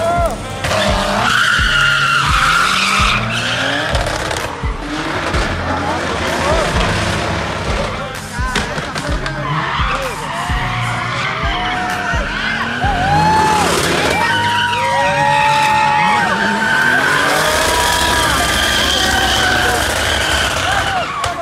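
Drift cars skid with tire squeal and revving engines at a drift championship, loud and continuous throughout, with crowd noise and people talking mixed in.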